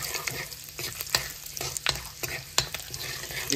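Whole spices, dried red chillies and bay leaf crackle in hot oil in a pan for an Assamese chicken dish, with steady sizzling broken by repeated scrape-and-stir clatters of a spoon.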